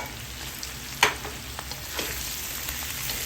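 Garlic, onion and mushrooms sauté in a hot pan, giving a steady close sizzle with a sharp scrape or clatter near the start and a few smaller stirring clicks after.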